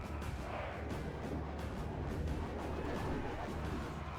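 Units opening fire at will in a Rome Total War battle with the Darthmod mod, velites and cavalry engaged: a dense, continuous roar of battle noise, loud and steady throughout, with no distinct separate shots standing out.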